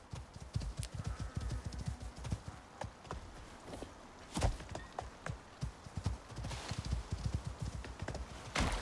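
Horse walking in the video game Icarus, hooves clip-clopping in a steady uneven rhythm, fairly close and quiet, with a few louder thuds along the way.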